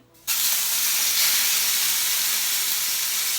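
Vegan meat hits a hot pan for spaghetti with vodka sauce, bursting into a loud, steady, close sizzle that starts abruptly and keeps hissing without a break.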